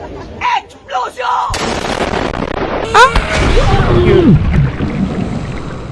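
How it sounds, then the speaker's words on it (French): An explosion in the video game Subnautica, set in an underwater cave, gives sudden booming bursts followed by rumbling, bubbling turbulence, with a voice briefly heard alongside. "Explosion!"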